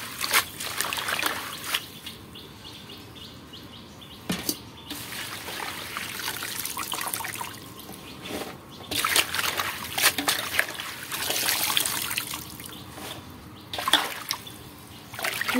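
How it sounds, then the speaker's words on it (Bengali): Leafy greens, including dheki shak, are washed with water from a hand pump, giving irregular splashes, trickles and sloshing that rise and fall in close, moderately loud bursts. "শাকগুলো পুকুরে জল থেকে ধুয়ে এনেছি, তো এখন দুই ধোয়া দিয়ে নিচ্ছি"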